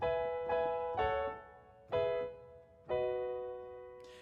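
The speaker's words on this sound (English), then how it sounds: "So all these descending chords sound like this." Five piano chords are struck one after another, each ringing and fading before the next, stepping downward in pitch, quiet and alone, from a song.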